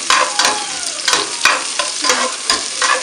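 Ginger, garlic and chili fry in a hot pan with a loud, steady sizzle. Repeated close scraping stirs break through it at an uneven rhythm.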